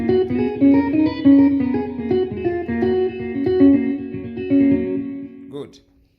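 A Yamaha PSR arranger keyboard plays a busy melodic solo with a heavy echo effect, steady and fairly loud for about five and a half seconds before the notes stop and a brief rustle ends it.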